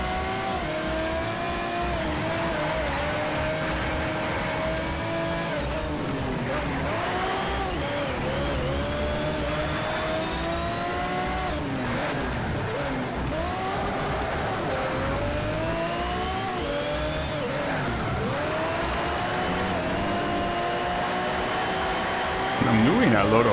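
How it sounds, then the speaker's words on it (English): A race car drifts through corners in the racing game Need for Speed: Shift, its engine wailing and sliding in pitch while tires squeal in long skids, loud and continuous across a track lap, a voice occasionally heard beneath. "I'm doing a lot of drifting on this track."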